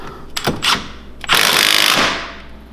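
Power tool briefly whirring and ratcheting while bolting a brake caliper with banjo bolts on an Eton Rover, two short bursts followed by a longer, louder run that fades off, close and alone.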